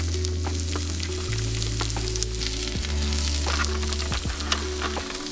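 Fennel and broccoli frying in a pan for green shakshuka, a steady close sizzle with occasional stirring scrapes and clicks, no talking.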